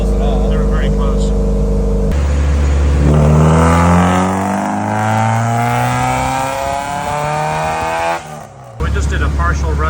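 A Honda S2000 engine revs up on a dyno in a partial pull, a loud rising engine tone sweeping upward for several seconds before cutting off, with workshop noise at either end.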